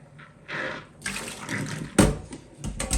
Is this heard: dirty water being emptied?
yes